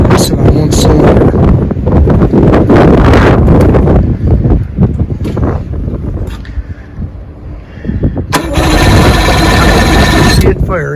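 A 1973 Evinrude 85 hp outboard motor runs while missing on one cylinder, loud and uneven with a rough pulsing beat and heavy wind buffeting, then a harsh buzzing burst near the end.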